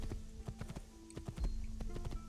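A horse's hooves clip-clop steadily in an Assassin's Creed video game as it is ridden, with regular moderately loud hoofbeats over a low, constant game background and no talk.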